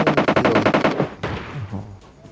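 Rapid automatic gunfire from the mobile battle royale game PUBG Mobile, a fast burst of about a dozen shots for one second, then sparser, fainter shots as background noise continues.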